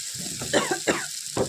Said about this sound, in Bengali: কাশি উঠে যাচ্ছে জানো না